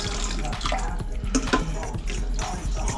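Flour and water mixture poured in small amounts into gravy in an Instant Pot on saute, a close, wet pouring and splashing sound with liquid gurgles over a steady background hum.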